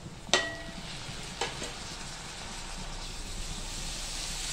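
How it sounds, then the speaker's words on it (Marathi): Tomatoes sauté in ghee over fried onion for dal palak, a quiet continuous sizzle with a couple of sharp clanks from a utensil early on, no talking. "हे टोमॅटो सुद्धा आपल्याला लालसर मऊ होईपर्यंत परतायचे"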